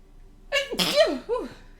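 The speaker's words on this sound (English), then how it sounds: "I think I have to sneeze." A person lets out a single sharp sneeze, close and loud, with a quick inhaled lead-in, an explosive burst and a short trailing vocal tail, alone against a quiet background.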